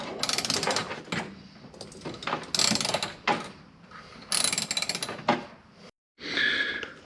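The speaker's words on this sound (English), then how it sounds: "So we found this tool, ratchet, and it works just fine." A ratchet tightening mud flap bolts on a Dodge Hellcat, with several close bursts of quick clicking separated by short pauses and brief quiet gaps.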